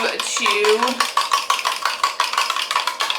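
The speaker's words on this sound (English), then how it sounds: "mix up the eggs" Two eggs are mixed for homemade fettuccine noodle dough, producing rapid, steady fork-against-bowl clicking close by, with a faint vocal hum near the start.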